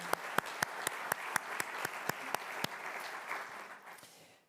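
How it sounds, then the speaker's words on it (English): An awards ceremony audience applauds the Order of the Knoll Award recipients, with a few sharp, evenly spaced claps standing out over a broad wash of clapping that fades away. "please join me in another round of applause for our Order of the Knoll Award recipients."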